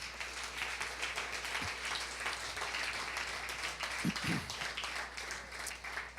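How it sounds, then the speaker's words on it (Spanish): A church congregation applauds during a Sunday service, a fairly quiet, steady patter of many hands kept up throughout with a few brief low sounds breaking through. "Dale un aplauso fuerte al Señor."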